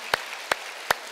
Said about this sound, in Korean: 우리 스티븐 형제에게 박수 드리도록 하겠습니다